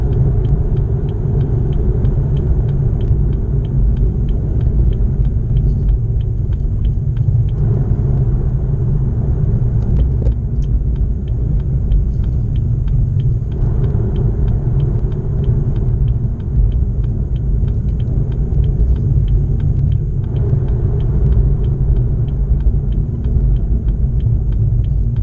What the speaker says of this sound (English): this footage here shows me downshifting with the auto rev matching